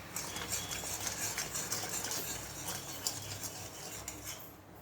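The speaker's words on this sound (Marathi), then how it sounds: "ही जी साखर आहे ती फक्त विरघळेपर्यंत हे हलवायचं आहे" Sugar syrup stirred in a pan until the sugar dissolves, a quiet continuous scraping and clinking of the spoon against the metal pan with faint sizzling underneath.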